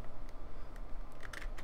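Computer keyboard keys are clicked during a session of Ark: Survival Evolved, giving a few sharp, scattered taps over a steady background hum, with no talking.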